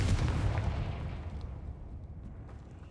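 Confringo blasting spell exploding in the Hogwarts Legacy video game: a heavy, booming blast with a deep rumbling tail that slowly fades over a few seconds, no voices.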